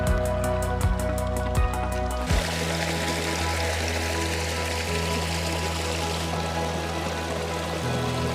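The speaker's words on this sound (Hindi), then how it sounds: "यहाँ पे ये प्राकृतिक जल स्रोत है और यहीं से पानी भर के मरोड़ा में ले जाया जाता है पीने के लिए।" Water running from a natural mountain spring, a steady splashing flow that continues throughout, with a few clicks and a droning tone early on before the flow carries on alone.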